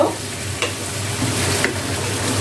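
Chicken with bottle gourd cooking in a pan, a dense continuous sizzle with faint clicks of stirring, close and steady over a short stretch, no talk.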